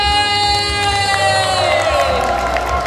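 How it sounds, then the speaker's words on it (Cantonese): Crowd at a singer's autograph-signing event in a Hong Kong mall cheering and applauding loudly, a dense continuous roar with whoops and shouts over steady background music. "再一次俾掌聲，晚安你哋"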